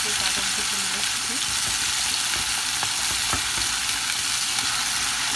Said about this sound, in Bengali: আমি লেবু পাতা দিয়ে দিচ্ছি, তিনটা লেবু পাতা দিচ্ছি